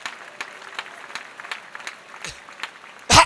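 Rhythmic congregational clapping at an ADEPR church prayer service, steady claps about three per second under a low murmur, ending in a sudden loud burst of applause.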